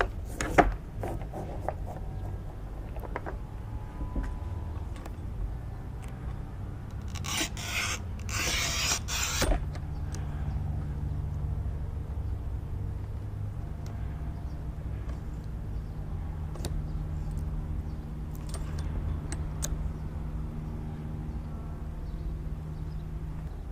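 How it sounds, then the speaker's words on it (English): Cheap manual tile cutter scoring thick 2-inch porcelain tile, with a brief gritty scrape early on, a loud harsh rasp burst partway through, then low steady rumbling and scattered clicks. "I'm ready to challenge this little tile cutter. We've got porcelain pan tile here"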